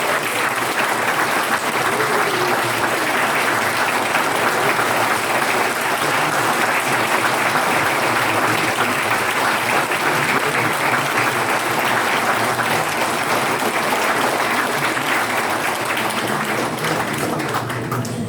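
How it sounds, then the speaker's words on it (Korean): A large audience at a Korea-UNC friendship association founding ceremony gives a sustained round of loud, dense applause, continuous and even for the whole stretch without a break. "큰 박수로 맞아주십시오."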